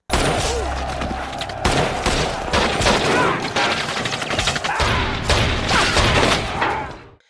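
Sustained battle gunfire in a war film scene: dense, loud volleys of automatic and rapid shots with booming impacts, continuous throughout with no pauses.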